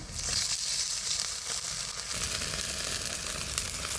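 Water hits frying onions in a pan, giving a loud, bright hissing sizzle that holds steady throughout, close and with no talking.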